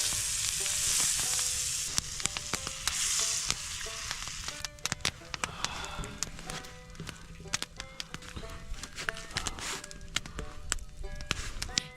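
Burgers sizzle steadily on a homemade skillet over an outdoor cooking fire, a constant close frying hiss broken by scattered clicks and scrapes of a utensil.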